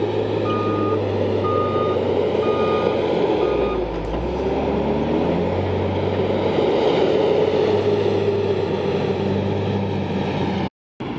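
A JCB 434S wheeled loader works under a heavy load while its reversing alarm sounds a regular series of high beeps over a steady diesel engine drone. It is outdoors and fairly close, with no speech.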